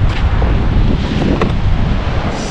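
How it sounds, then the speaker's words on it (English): Strong wind buffets the microphone on the Phillip Island coastline, a steady loud rumble with surf and waves washing beneath it throughout. "it's a bit windy anyway."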